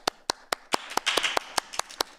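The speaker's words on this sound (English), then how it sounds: "I'll give them a round of applause." A few people clap steadily for school trustees at a State of the School address, about ten sharp, close hand claps in a loose rhythm, with a brief burst of fuller applause in the middle.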